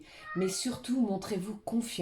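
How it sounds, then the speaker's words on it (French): A pet cat meows several times indoors, its drawn-out cries overlapping with a woman's spoken French right beside it. "Je suis désolée s'il y a du bruit, c'est mon chat qui fait le bazar."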